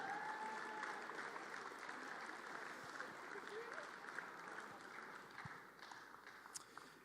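Distant crowd applause at a FIBA 3x3 basketball tournament finals in New Zealand, a faint, even wash of clapping with some cheering and arena noise beneath an announcer's voice.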